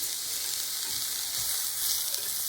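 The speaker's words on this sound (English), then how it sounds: "I drop in the mushrooms. And I try to brown each side on high heat." Mushrooms sear in a pan over high heat, producing a continuous bright sizzle and hiss at a steady moderate level, with no voices.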